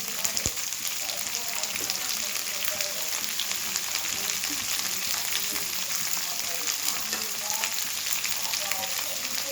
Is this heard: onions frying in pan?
yes